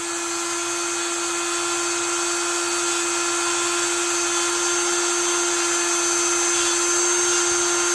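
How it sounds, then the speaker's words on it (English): A rotary tool spins a conical felt pad against a Klein electrician's knife blade, giving a steady, high-pitched whine with a constant tone that holds loud and unbroken for the whole stretch, with no talking. "It's kind of the most aggressive of the different felt pads that I use, and it's good for the initial cleaning."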